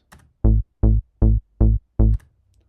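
Five evenly spaced trance bass stabs, dry and narrow with no stereo width processing, each a short bright harmonic-rich note in a steady rhythm with brief gaps between.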